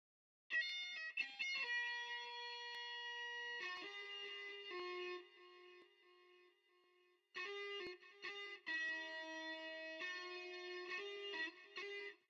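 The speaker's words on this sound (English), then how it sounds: "my rhythm guitar has some variations, but the main one sounds like this" A distorted rhythm guitar for a pluggnb track plays sustained power chords, with a brief break midway before the chords return, no voices present.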